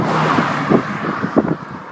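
A car passes along a quiet rural road near Shieldaig, a soft, broad whoosh of tyre and wind noise that swells and fades.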